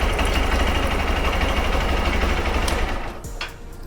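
Motorcycle engine idling in neutral, a close, steady low mechanical chug with buzzing vibration that drops away near the end as the engine is switched off.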